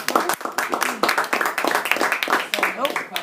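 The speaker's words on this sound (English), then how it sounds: "Let's give her a round of applause." Classroom applause after a student's persuasive speech: scattered, uneven clapping from a small audience, steady and close, with voices talking over it.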